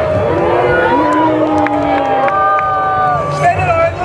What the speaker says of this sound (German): Spendet euren Jubel für Alexander von Stadtzingen!